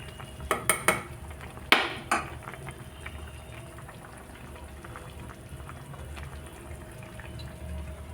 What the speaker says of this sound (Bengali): এবার আমি ঢাকা দিয়ে রেখে দিব